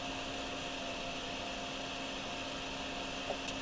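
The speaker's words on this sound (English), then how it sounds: "When in doubt, break out the vacuum, you know? The Dyson." A Dyson vacuum cleaner runs in the video game DrainSim, a steady, loud motor whine with a constant hum and airy rush, unbroken from start to finish with no talk over it.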